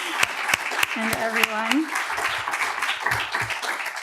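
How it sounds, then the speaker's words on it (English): Scattered hand claps and crowd applause run under a speaking voice, with a brief sung or hummed tone partway through. "if we could give those folks a round of applause"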